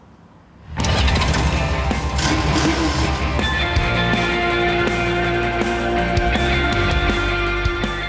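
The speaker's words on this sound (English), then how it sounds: "Today we've got to go out behind the motorbikes, getting some motorbike pacing." An engine catches and starts after a brief quiet moment, then idles steadily and loudly close by, with a motorbike's buzzing drone and no talking; a pacing motorbike used for cycling training.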